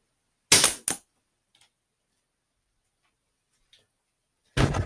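Two sharp, loud pops from a Daisy BB gun shooting custom wood bullets, close together near the start, followed by near silence, then a burst of rougher broadband noise at the end.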